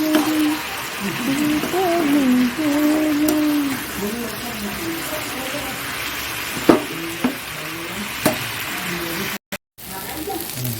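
Onion frying and being stirred into soft potatoes in a pan, a steady close sizzle with a few scraping clicks of the spatula, under a voice talking.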